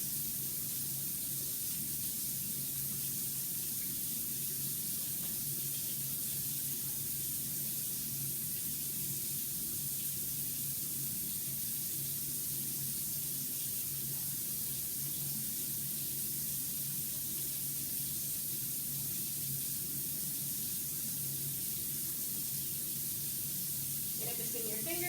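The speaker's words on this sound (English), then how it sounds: "wash your hands, get them wet, put some soap on and scrub for at least 20 seconds" Running water pours steadily while hands are washed and scrubbed with soap, a constant broad hiss lasting about twenty-five seconds at a campsite, with a faint voice underneath.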